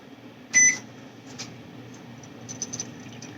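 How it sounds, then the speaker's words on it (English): A kitchen timer used while brewing drip coffee gives one short bright beep, then faint soft clicks in a quiet room. "going for the timer."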